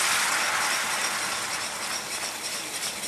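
A whisk scraping and rattling steadily in a pan as heavy cream goes into a roux for a béchamel, a continuous bright metallic swish that stays close and fairly loud throughout, with no voices.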